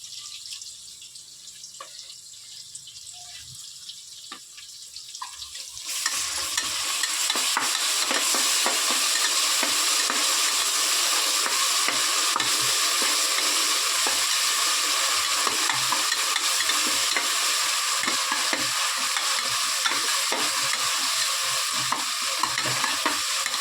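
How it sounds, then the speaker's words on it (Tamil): Onions and tomatoes sauté with ginger garlic paste for tomato rice, a loud continuous sizzle with constant stirring scrapes that starts abruptly after a quieter opening. "வெங்காயம் தக்காளி நல்லா வதங்கட்டும்."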